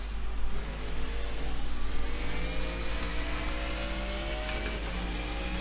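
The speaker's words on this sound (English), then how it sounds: "And I like the engine sound, because you gotta love an American V8." A Ford Mustang with an American V8 engine in a racing video game hums with a fairly faint, steady engine tone under a wash of hiss, its pitch slowly climbing and then easing off.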